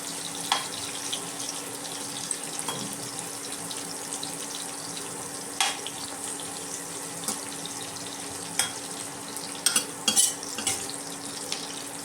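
Capsicum stir-frying in a pan for an egg rice wrap, with a steady close sizzle and occasional scrapes and taps of a spatula stirring it.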